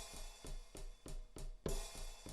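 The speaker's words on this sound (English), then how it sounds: "when you have the open hi-hat ringing" Open hi-hat pattern programmed on a Maschine MK3, with each hit left ringing and no choke, sounding as a steady run of bright, sizzling strikes about twice a second. Decays overlap, and a louder accent lands near the end.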